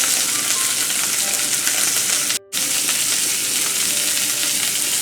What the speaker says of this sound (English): we want to make sure we get a nice, good crust on our steaks before we put them in the oven